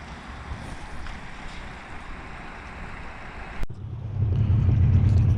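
A passenger boat crossing the River Tyne, with a steady broadband rumble of engine, water and wind, then a brief knock followed by a louder, deeper engine drone as the boat gets under way.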